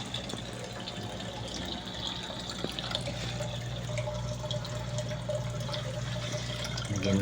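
Water pours steadily into a container being prepared for mollies, a continuous splashing trickle with a faint hum beneath, close and moderately loud throughout with no speech.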